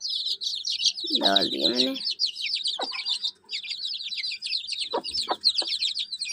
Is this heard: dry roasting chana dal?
no